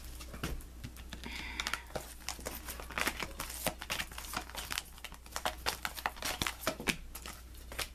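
Tarot cards handled and a guidance card pulled from the deck, making rapid, close papery flicks and rustles in dense bursts, with no talking.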